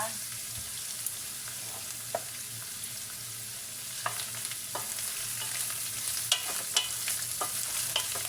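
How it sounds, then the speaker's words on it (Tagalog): Seasoning, including small scallops, sautéed in a pan for kiampong, a steady close sizzle with scattered scrapes and clinks of stirring throughout, no voices. "Igigisa mo lang siya."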